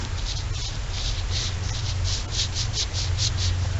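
Mower deck spindle bearing on a Cub Cadet 2185 deck being spun by hand, a continuous close grinding rasp with a rhythmic whooshing pulse on each turn, steady and fairly loud with no talking.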